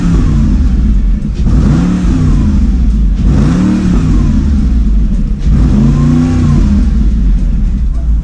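A Mercedes SLR McLaren engine revs hard through its side-exit exhaust, three loud rising blips close by, each dropping back to a rumbling idle between pulls, with no talking.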